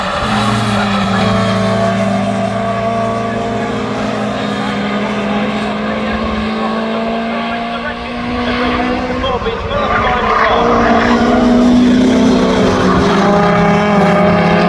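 Race cars at Castle Combe circuit scream past near and loud, engine notes rising and falling with tyre squeal, under continuous commentary.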